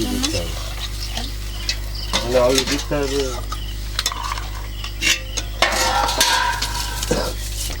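Water splashes into a pan of sizzling goat fat while ghugni is being cooked, giving a loud hiss and bubbling that keeps going with scraping and stirring of the pan, and a voice speaks briefly.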